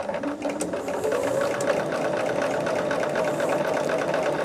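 A sewing machine stitches strips for a scrap quilt, running in a steady, continuous mechanical hum with a fast needle rhythm throughout, close and fairly loud with no talking.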